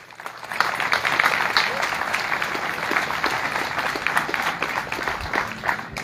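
A crowd of motorcyclists at a biker blessing in Lorraine applauds first-time riders, with steady, moderately loud clapping rising after a brief lull and continuing evenly to the end.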